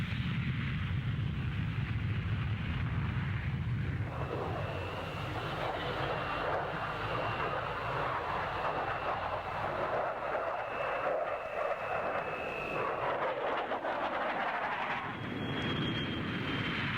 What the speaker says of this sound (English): Sweden's Draken, for instance, now taking off.